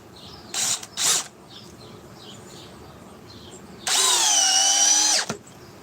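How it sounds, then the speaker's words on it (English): Power drill test run in speed 2 on a solid billet of wood: two short whirring bursts, then a loud sustained whine of just over a second that slows as it stops, no talk. "These drills aren't too far apart."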